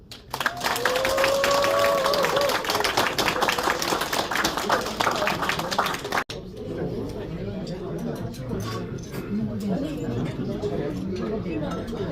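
Audience applause for the cake cutting at a year-end general meeting and party: dense, loud clapping with light clinks and chatter for about six seconds, then it stops abruptly and murmuring, crowd voices remain.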